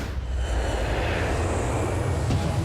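Large airplane engines roar loud and steady throughout, a continuous close broadband drone with no talk over it.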